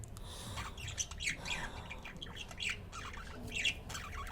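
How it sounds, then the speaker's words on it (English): Pet budgies chirp and squawk in a busy, overlapping chatter of short harsh calls, fairly close and moderately quiet, with no one talking. "And now they are chirping because there are some birds outside which are also chirping"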